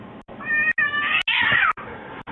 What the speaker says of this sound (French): je vous laisse avec un chat très con